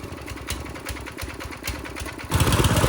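A cheap pit bike engine idles a little high, a fast buzzing, rattly putter close by that grows louder and rougher toward the end, with no talking.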